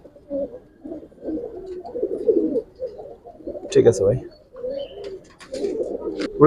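Low, soft pigeon cooing murmurs throughout, with a few brief spoken words and some handling clatter nearby, at a pigeon sale.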